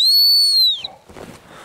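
A dog training whistle during bird dog training blows one long, loud, steady blast that holds for most of a second, then cuts off, leaving quiet field noise and faint movement.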